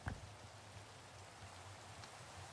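Faint, steady rain falls in a video game world, a soft continuous hiss with a low hum beneath and a brief tap at the start.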